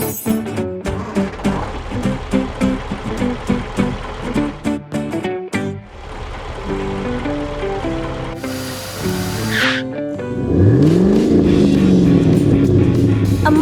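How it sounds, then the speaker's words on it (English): A modified car roars in and speeds past, its engine note rising and sweeping by loudly near the end, following a stretch of rhythmic music and effects. "A modified car speeds in."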